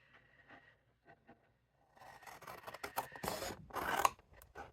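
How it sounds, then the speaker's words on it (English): Scissors snip through watercolor card with a few faint, quiet cuts, then a louder run of crisp slicing strokes close by. "I'm just going to cut it here also."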